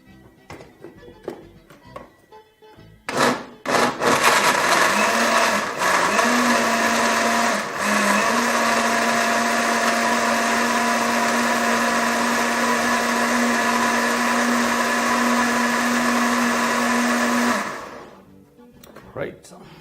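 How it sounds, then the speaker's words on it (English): A blender runs steadily for about fifteen seconds, whirring loud and close as it purees orange, carrot and pineapple into a smoothie, after a few knocks and clatters at the start, then cuts off. "Throw that into your blender,"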